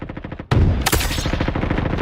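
An AWP sniper rifle shot in a Roblox game, one sudden loud crack followed by a sharp high burst, set against a rapid, steady rattle of other gunfire before and after.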